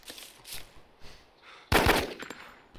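Gunshots in the survival game DayZ: a couple of faint earlier pops, then a loud, sharp close shot followed by a few quicker cracks and a brief ringing tail.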